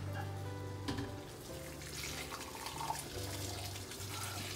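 Homemade fish stock poured in batches through cheesecloth, a steady, soft liquid pour and trickle, close and continuous with slight surges.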